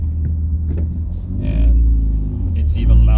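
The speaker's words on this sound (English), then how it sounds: "as I'm sitting here in the red light, it's just idling and it's so loud." A loud, deep engine idle from a car with its catalytic converter missing, stopped at a red light, rumbles steadily, with heavy low-end throb that swells slightly, and a voice talks over it.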